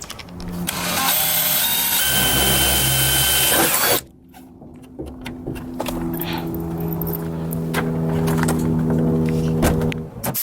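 A power tool whirs in a steady, loud run while rivets are set and screws are driven to mount an LED tail light on an RV. It cuts out briefly, then starts again with continuous mechanical buzzing.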